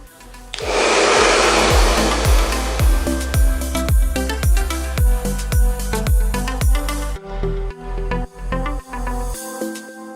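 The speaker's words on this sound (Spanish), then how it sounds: "Nosotros en el salón utilizamos secador con boquilla, porque la boquilla nos ayuda mucho a direccionar el aire" A salon hair dryer fitted with a nozzle, blowing on hair in a loud steady roar that pulses as it sweeps top to bottom, then cuts off and restarts in short bursts, close and without talk.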